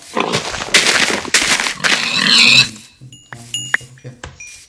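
Harsh scraping hits followed by short squealing grunts, then a few electronic blips and tones, as a pig is struck in Minecraft.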